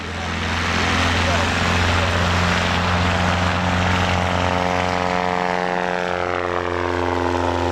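A 1955 Cessna 180 propeller airplane at a STOL competition drones loudly and steadily throughout, its engine note holding firm with a rising tone toward the end, under a mix of talk and crowd noise.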